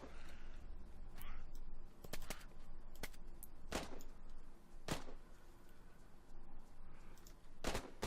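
NPC gunfire in the game DayZ on a Namalsk server: several sharp, separate shots crack out at irregular intervals over a steady ambient bed, some close and loud, others fainter, with no talk.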